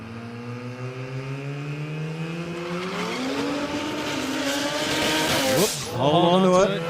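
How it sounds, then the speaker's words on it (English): A Mazda RX-3 coupe launches on a drag strip with loud, close rotary engine revving that climbs in pitch while the tyres spin and squeal, before a shift and a sharp sweep of engine noise near the end. "So, yeah, fair bit of wheel spin there."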